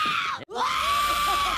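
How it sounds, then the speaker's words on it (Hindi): Screaming goats heard in the film Thor: Love and Thunder, a loud, close, strained wailing bleat in two bursts split by a brief gap, harsh and sustained. "उसमें चीखने वाली बकरियां, वैसे ही कुछ यहाँ समझ लो।"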